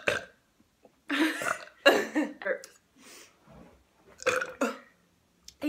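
A girl lets out several loud, wet burps in bursts separated by short pauses, some drawn out and gurgling, with a little breathing between them.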